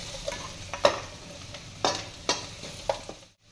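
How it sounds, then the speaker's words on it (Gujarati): A spoon stirs chopped vegetables in a pan for Manchow soup. Soft sizzling is broken by about five sharp scraping clacks in an uneven rhythm, close by, with no voices. "હલાવી લઈશું થોડીક વાર."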